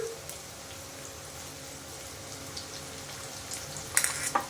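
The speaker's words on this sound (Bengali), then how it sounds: "এই দেখো পেঁয়াজ কুচিটা এখন দিয়ে দেবো তেলটা কিন্তু একটু বেশি লাগবে এই রেসিপিতে পেঁয়াজটা দিয়ে দিলাম" Chopped onions hit hot oil in a pan for a snake gourd dish, producing a steady close sizzle with a few louder crackling spits near the end; no one speaks.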